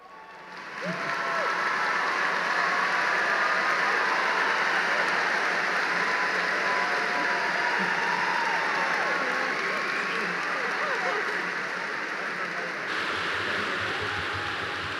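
A large crowd at a university graduation ceremony applauds new graduates with sustained, loud clapping. It swells within the first second and holds steady for the rest of the span, with a slight drop near the end.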